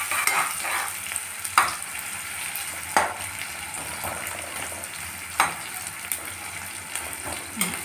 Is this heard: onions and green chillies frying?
yes